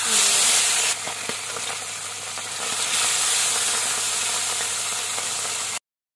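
Puni fish frying in oil in a pan, a steady bright sizzle and hiss that runs loud and continuous with faint crackles and small pops throughout, then cuts off abruptly.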